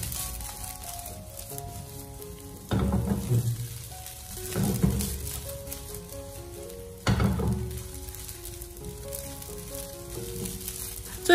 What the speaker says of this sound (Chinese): 然后再继续的开大火，把它快速的翻炒一下，给它翻炒均匀